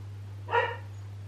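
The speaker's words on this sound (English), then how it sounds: "That's my dog." A single short dog bark sounds at moderate distance in a Finnish countryside winter setting, over a steady low hum.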